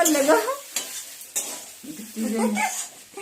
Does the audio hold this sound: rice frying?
yes